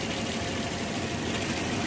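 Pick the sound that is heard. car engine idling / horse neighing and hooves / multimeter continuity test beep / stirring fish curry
car engine idling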